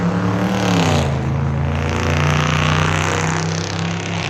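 A loud, deep Jeep SRT engine roar revving up and holding steady, close and continuous with a rising then falling pitch.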